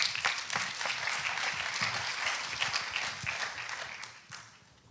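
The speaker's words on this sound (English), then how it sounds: "je vous demande de l'applaudir" Conference audience applauding steadily after a speaker on health and the sea is introduced, a dense broadband patter of many hands that fades slightly toward the end.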